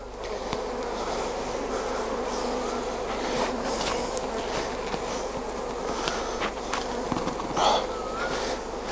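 A large population of honeybees hums and buzzes steadily around an open Langstroth hive during an inspection, a dense, continuous drone up close with no talk.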